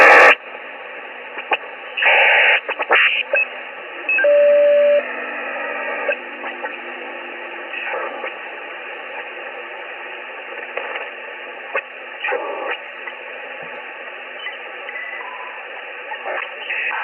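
CW Morse code on a radio receiver, a thin steady tone keyed among hissy band noise and bursts of static, fairly loud and continuous with no voices.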